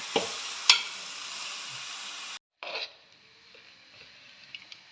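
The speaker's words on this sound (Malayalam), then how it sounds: "കപ്പ വേവിച്ച് വെച്ചിട്ടുണ്ട് അത് ഇട്ട് കൊടുക്കാം നന്നായിട്ട് ഇളക്കി എടുക്കാം" Boiled tapioca stirred together with fried small onions in a pan, a steady scraping and sizzling for about two seconds, then a short pause and a brief burst of stirring before quieter, softer pan sounds.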